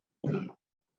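A single short, quiet cough, close by, with silence before and after.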